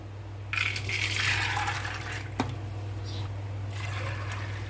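Dry lentils rattle into a pressure cooker and water is then poured in, a close, continuous gushing pour with a brief clink, over a steady low hum in a home kitchen.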